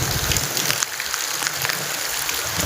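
Steady rain falls outdoors during the rainy season, a dense, constant hiss of drops hitting surfaces that stays even and fairly close throughout, with no voices.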